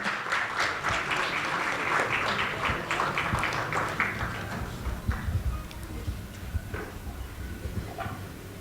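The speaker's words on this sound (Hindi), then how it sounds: "आप सभी की तालियां इसलिए होनी चाहिए" Audience applause at the inauguration ceremony of the Rang Rajasthan theatre and folk festival, a dense steady clapping that holds for several seconds and then thins toward the end.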